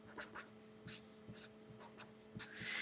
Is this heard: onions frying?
no